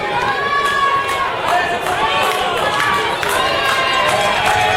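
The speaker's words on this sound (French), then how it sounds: "on applaudit très fort" A crowd at an athletics interclub final cheers and applauds in a steady, loud wash of noise, with voices rising and falling throughout.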